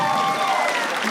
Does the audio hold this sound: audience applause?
yes